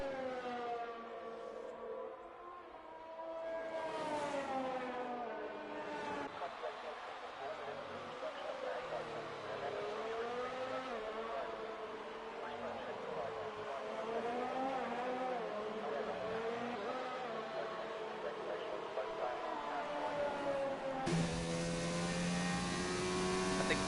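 A McLaren Formula 1 car on a timed lap at the French Grand Prix in an F1 video game, its engine whining steadily and rising and falling through gear changes for the whole stretch, with commentary talking over it.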